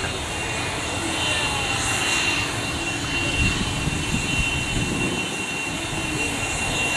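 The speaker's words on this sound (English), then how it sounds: "Ryanair flight 3127 from Marrakesh." A Ryanair jet airliner arriving from Marrakesh at Manchester Airport gives off a loud, steady engine roar and whine that holds at one level throughout.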